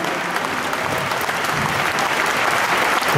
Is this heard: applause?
yes